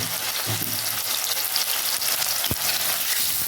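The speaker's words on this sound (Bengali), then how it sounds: "আমি অল্প অল্প করে ভেজে নেব" Boiled young jackfruit frying and being stirred in oil in a pan, a constant close sizzle with a few scraping stirs and no voices.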